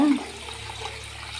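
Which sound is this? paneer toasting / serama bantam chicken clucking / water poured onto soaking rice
water poured onto soaking rice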